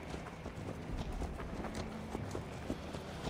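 Horse hooves clip-clop in a steady, quick gallop in the video game Assassin's Creed Valhalla, with a soft wind-like background and no talking.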